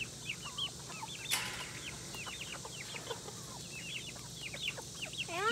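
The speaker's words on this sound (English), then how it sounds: "Look at the chicken group over here." A group of chickens, with chicks among them, clucks and chirps busily in a steady scatter of calls, fairly faint and with no one talking.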